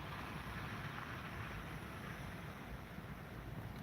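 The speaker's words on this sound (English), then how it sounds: "This is a beautiful rain." Warm, heavy rain pours down steadily in a broad, even hiss, close and constant with no pauses or voices.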